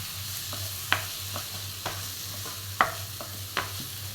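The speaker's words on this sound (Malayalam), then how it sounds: "ഇനി ഇതിലോട്ട് കുറച്ച് കറിവേപ്പില ചേർത്ത് കൊടുക്കാം." Curry leaves stirred into softened tomatoes in a pan for chicken kurma, a soft sizzle under repeated scraping taps of a spoon stirring.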